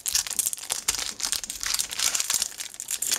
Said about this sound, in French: J'aime pas utiliser des ciseaux pour ouvrir des paquets, hein.